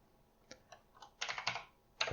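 A few quiet keystrokes on a computer keyboard while writing code in an editor: scattered single clicks followed by a short burst of close, light typing.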